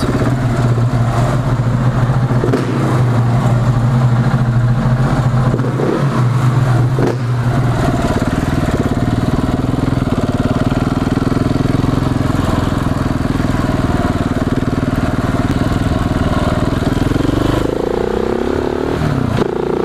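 KTM 690 SMC R single-cylinder supermoto from 2018, fitted with an EVO kit, riding: a loud, close engine drone that holds steady, with wind noise and brief shifts in pitch toward the end.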